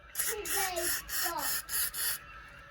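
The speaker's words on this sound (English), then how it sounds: "Let's give it a bit of spray as well." A WD-40 spray can hisses in five or six short, sharp bursts in quick succession, with faint squeaky tones running underneath.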